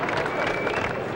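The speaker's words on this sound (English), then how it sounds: "the hand clapping can start for the Denis family" A crowd applauds at the 1995 NHL Draft, dense steady clapping filling the hall with a murmur of voices underneath.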